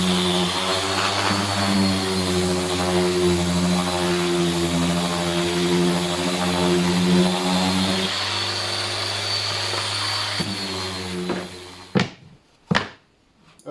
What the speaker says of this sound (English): Gonna use some 100 grit sandpaper on this to